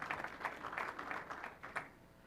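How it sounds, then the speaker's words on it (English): A few people in an audience at a technology presentation give a faint, sparse slow clap, a handful of distinct claps spaced out over a couple of seconds. "Appreciate the slow clap."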